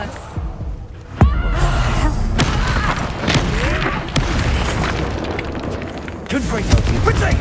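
Confringo blasting spells in Hogwarts Legacy on PS5 set off a string of sharp, loud explosive booms at irregular intervals, with crackling debris and a voice speaking between the blasts.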